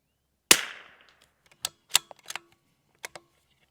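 A single sharp rimfire rifle shot with CCI Standard Velocity ammunition, from a CZ455 or Ruger RPR, cracks loud and close with a short decaying tail, followed by a few faint clicks and handling taps.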